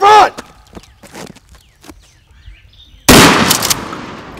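A pump shotgun fires in an outdoor combat drill, one loud sharp blast with a lingering tail after several seconds of scattered footsteps and light movement; a voice is heard at the start.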